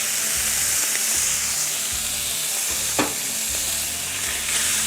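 Two halved bacon slices fry in a pan beside a cheeseburger patty, making a loud, continuous hiss and crackle up close, broken once by a sharp knock near the middle.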